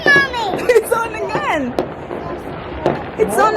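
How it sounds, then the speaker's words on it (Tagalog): Fireworks bursting over Melbourne on New Year 2020, a few sharp cracks and pops at a distance, heard under the near excited chatter of an adult and a young child. "fireworks."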